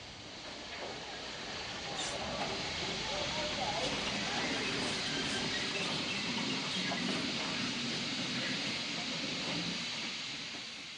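Two ex-Somerset & Dorset steam locomotives, numbers 53807 and 44558, run light toward the Green Park turntable. A steady, dense hiss and rumble holds at an even, moderate level throughout, with no distinct beats or whistles standing out.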